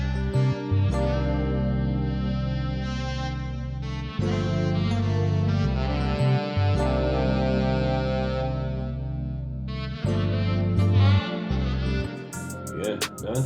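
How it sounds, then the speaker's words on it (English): Fretless jazz bass line from a virtual bass instrument plugin, in a chill melodic hip-hop beat: deep, sustained bass notes that shift around the root in phrases, loud and close, layered with a melodic instrumental backing. "The bass line is from Moto Bass 2"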